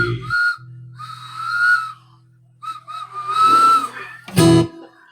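A person whistles a melodic tune in sustained, wavering notes, with brief pauses between phrases and a sharp, louder burst near the end.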